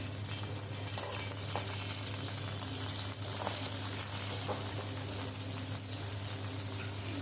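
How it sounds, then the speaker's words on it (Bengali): Chopped onion fries in a wok that was just used to fry chicken for a shahi roast, making a steady, even hiss with faint occasional stirring sounds, moderately quiet and continuous. "এবার আমরা পেঁয়াজ কুচিটাকে ভালোভাবে ভেজে নিব"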